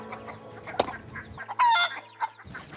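A rooster clucks and squawks in short bursts, close by on a Texas ranch, with a brief flapping rustle and a sharp cry.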